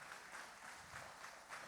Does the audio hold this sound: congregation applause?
yes